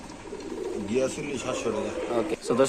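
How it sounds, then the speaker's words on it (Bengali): Pigeons in market cages coo in soft repeated warbling phrases, close and continuous, with people talking faintly in the background. "খুব সুন্দর এক জোড়া কবুতর"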